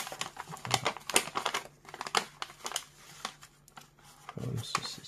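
Paper being folded and creased into a ceremonial origami crane, with repeated crinkling and crisp rustling bursts, close and fairly loud, in irregular rhythm.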